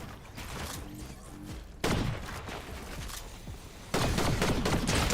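Shotgun fire in Fortnite comes in rapid bursts of sharp blasts and clatter amid game noise, with two especially loud shots breaking in partway through.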